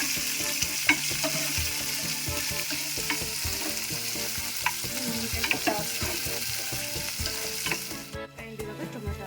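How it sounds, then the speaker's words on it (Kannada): Chopped onions sizzle steadily in hot oil in a pan, a dense close hiss broken by occasional spoon scrapes and clicks, then tapering off near the end. "ಈರುಳ್ಳಿ ಚೆನ್ನಾಗಿ ಫ್ರೈ ಆಗುತ್ತೆ."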